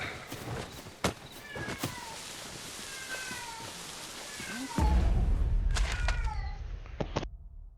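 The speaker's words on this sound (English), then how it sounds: "You must smell a girl cat outside or something." Cat in Dragon's Dogma 2 giving several clear meows with pauses between them, moderately close, followed by a burst of louder rumbling noise and more meows.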